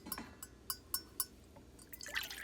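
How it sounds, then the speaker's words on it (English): Water is poured into thick vattayappam batter, heard as a quiet run of short splashes and drips, close and with no voices. "So I'm going to add 1 cup of water."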